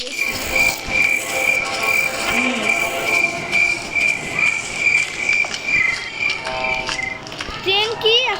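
A train runs in the Granny video game, with a steady rolling rumble and a sustained high whine, rising squeals and shifting tones near the end, loud throughout with talking mixed in.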